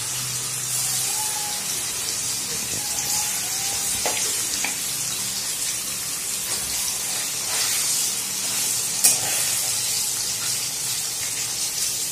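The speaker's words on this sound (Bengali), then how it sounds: "এবার আমি হালকা করে পনিরগুলো ভেজে নেব" Paneer pieces fry in hot oil with turmeric, giving a steady, even sizzle that holds for the whole stretch, close and moderately loud, with a brief clink near the end and no talking.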